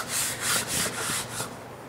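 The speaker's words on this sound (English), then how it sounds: "now I can test the fit of the insert" A zero clearance insert being test-fitted into a table saw opening with an 8-inch dado blade lowered, giving several close, soft rubbing and scraping strokes of wood against the saw table, with no talking.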